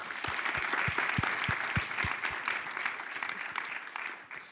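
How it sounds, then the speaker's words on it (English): A conference audience at HEC Paris applauds warmly for a guest, with broad sustained clapping over a series of regular low thumps early on, fading briefly near the end. "please join me in giving a warm round of applause for Ayman Cheikh Lahlou"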